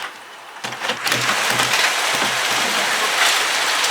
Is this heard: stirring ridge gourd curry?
no